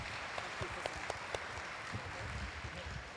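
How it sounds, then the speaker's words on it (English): An audience at an academic conference applauds after a presentation, a light spatter of scattered handclaps, fairly faint and brief, with soft room murmur around it. "So maybe we can give applause to Karen for her presentation."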